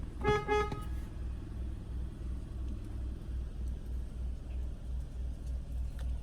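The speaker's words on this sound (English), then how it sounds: "Has a nice sounding horn." A 2014 Mazda 3 car horn gives a short burst of a few quick honks near the start, loud and close, then fades into a steady low engine-like rumble from inside the car.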